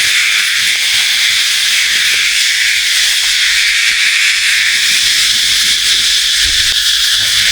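A dense, steady drone of many cicadas fills the air at close range with no breaks, a loud continuous hiss-like buzz without speech.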